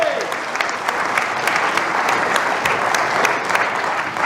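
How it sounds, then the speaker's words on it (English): A church congregation breaks into applause, a steady wash of many hands clapping together at moderate loudness, sustained throughout without pause. "yeah, you can clap for that, that's all right."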